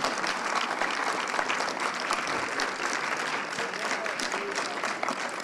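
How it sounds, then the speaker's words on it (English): Audience at a school Black History Month showcase applauding faculty members, a sustained, even round of clapping from a crowd, moderately distant with a few sharper individual claps standing out. "Let's give them a round of applause for coming out and support."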